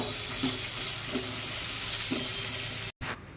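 Boiled peas, chillies, coriander and ginger frying in hot oil as the tempering for a samosa filling, giving an even close sizzle with a few soft stirring knocks, then a brief cut near the end.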